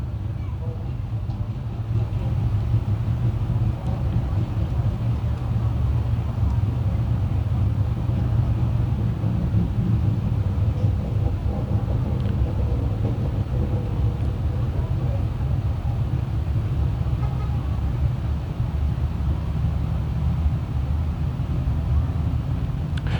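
A field of 358 modified dirt race cars idles before a heat at Can Am Speedway, making a steady, unbroken low rumble throughout.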